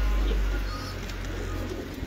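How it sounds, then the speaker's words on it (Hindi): A Saanp Daddy breed pigeon coos close by in a loft in Lahore, a low soft murmur over a rumbling background that starts loud and settles. No one talks. "ये मेरे सांप डैडी कबूतर है"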